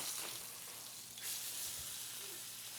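Brazilian tri-tip beef sears in a hot pan, a faint, steady sizzling hiss heard close up and alone, with a slight surge partway through.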